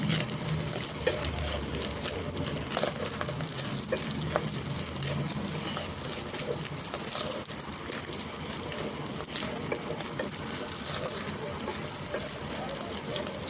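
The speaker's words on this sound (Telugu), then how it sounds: "ఆయిల్లో ఫ్రై అవ్వాలి." Mutton keema frying in oil with chilli powder and salt stirred in, a steady, close, continuous sizzle with faint scraping from stirring throughout, no one talking.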